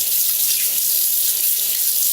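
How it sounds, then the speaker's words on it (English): Running water from a tap pours steadily over hands being rinsed at a sink, a close, loud continuous splashing hiss. "So you rinse your hands off"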